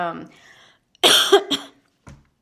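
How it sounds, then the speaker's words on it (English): After a bit of speech, a harsh, loud cough bursts out nearby, followed by a second shorter cough and a faint throat sound. "I got a cough all of a sudden"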